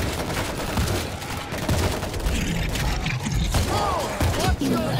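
Continuous gunfire from a World War Z video game rattles loud and close in dense overlapping volleys, with voices and game noise mixed in.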